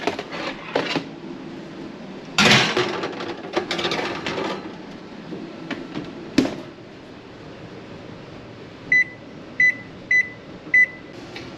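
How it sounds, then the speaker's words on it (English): An oven runs with a low steady hum and scattered clunks and rattles while carnivore cinnamon roll dough bakes, then four short evenly spaced beeps sound near the end; nobody speaks. "So we're gonna put this in the oven for 10 minutes."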